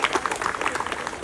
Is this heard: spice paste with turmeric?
no